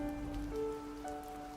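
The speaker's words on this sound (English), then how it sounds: "the rain, it has not faltered for a second since then. It keeps falling in sheets" Heavy rain falls in sheets, a steady, dense hiss that holds without a break, with sustained droning tones layered over it.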